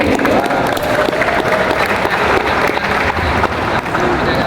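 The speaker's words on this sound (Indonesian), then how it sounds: "Tepuk tangan dulu." An audience at a student organization inauguration ceremony breaks into sustained, dense applause that carries on loudly throughout, with a murmur of voices mixed in.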